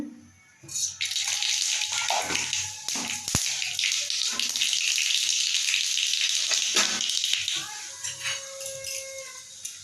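Mustard seeds dropped into hot oil in a wok, a loud bright sizzle bursting up and holding steady for several seconds before fading, with clinks of a utensil and a voice talking over it.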